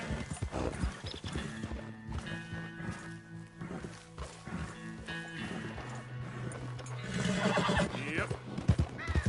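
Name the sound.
horse hooves clip-clopping and neighing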